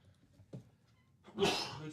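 A single short, sharp sneeze bursts out near the end after a moment of near quiet with a faint earlier noise, fairly close and loud.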